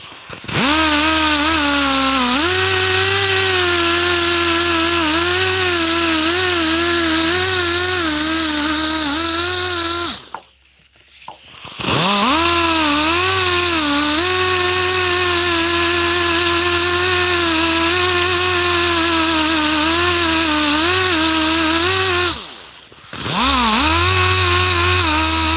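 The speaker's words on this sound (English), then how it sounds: "Back to this Dremel, more direct." A Dremel rotary tool polishing, a loud close high-pitched whine that shifts pitch under load, cutting out twice for about a second before spinning back up.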